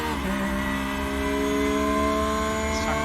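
A Porsche 911 race car in the iRacing game at the Red Bull Ring howls at high revs, its engine note sweeping and shifting pitch under load with a brief tire squeal, loud and close with several cars nearby.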